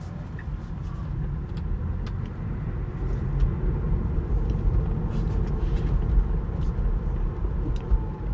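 A car under self-driving control pulls out of a neighborhood into afternoon traffic, giving a steady low road rumble and tire noise throughout with faint clicks, no talking.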